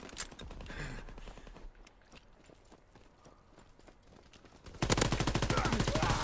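Gunfire in Call of Duty WW2 online multiplayer: scattered rapid shots early on, then a loud sustained burst of automatic fire near the end, with footsteps and other game sounds between them.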